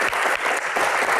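A studio audience at an Indonesian Q&A show claps for a contestant named Gian, a brief, dense burst of applause that stays steady throughout.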